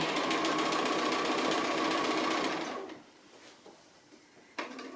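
A sewing machine stitches fabric appliqué in a steady, close whirring run for about three seconds, then stops. A couple of soft mechanical clicks follow in the quiet.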